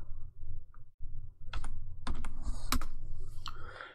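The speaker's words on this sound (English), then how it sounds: "open a terminal, type in sudo apt-get update, press enter" Someone types a terminal command on a computer keyboard running Kali Linux: close, sharp keystroke clicks in uneven bursts over a low background hum, with no talking.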